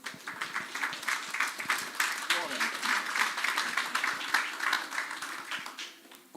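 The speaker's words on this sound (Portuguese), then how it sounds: "Vamos aplaudir ao Senhor Jesus." A church congregation claps and applauds steadily for several seconds during a live worship service, a dense, continuous patter of many hands in a reverberant hall.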